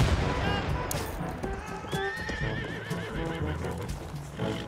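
A horse whinnies loudly in a Battlefield 1 match, a drawn-out neigh over hoof clatter, with distant gunfire and game noise around it.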